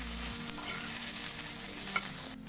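Chillies browning in a pan, a soft steady sizzle with faint stirring scrapes, quiet and close, no voices.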